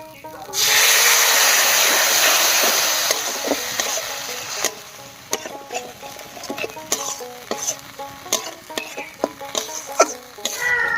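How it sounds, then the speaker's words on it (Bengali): Ground spice paste hits a hot pan with water for a papaya dish, bursting into a loud hissing sizzle that fades over a few seconds, followed by rhythmic spatula scrapes and clicks against the pan. "এবার মশলা বাটা জল দিয়ে কষিয়ে নেব"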